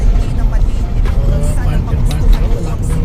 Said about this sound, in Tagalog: Traffic oh.